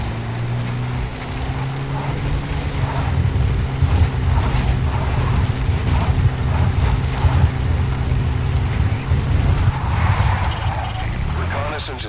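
A helicopter in Metal Gear Solid V drones with a low, steady rotor hum that slowly fades as it flies off, with voices talking over it throughout.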